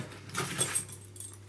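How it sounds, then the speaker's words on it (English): A bunch of everyday-carry keys jangling in a short, bright metallic clatter, rising in a couple of bursts before trailing off, close and fairly quiet with no talking. "Keys."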